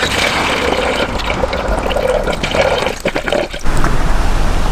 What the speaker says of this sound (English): so started pouring the coolant in